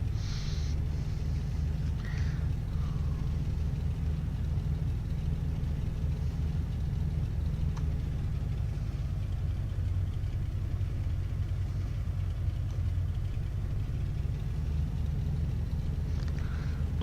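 Small piston aircraft engine, a Cessna C206, taxiing in a flight simulator game, a steady low droning rumble that stays constant throughout, with faint brief clicks and no talk.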